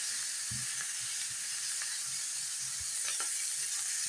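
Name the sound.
sausage sizzling while stir-fried in a hot pan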